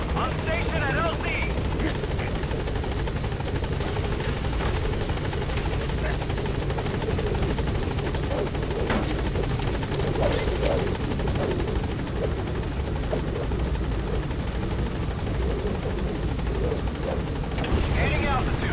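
A helicopter arrives at a landing zone in the Metal Gear Solid V video game, its rotor droning loud and continuous throughout, with radio-style voices talking over it.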